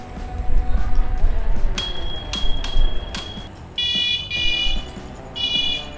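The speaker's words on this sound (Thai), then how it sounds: "กระดิ่งเรียกมันก่อน" Bell on an electric scooter rung to call dogs, giving a few bright, clear dings in quick succession over a low engine-like rumble, followed by a brief burst of repeated ringing.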